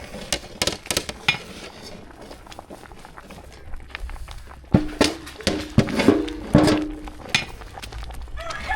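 A spoon scrapes and knocks against a metal cooking pot while spice powders, including chilli, coriander, sambar powder and turmeric, are stirred into sambar. The sharp clinks are scattered, then grow busier and louder near the end.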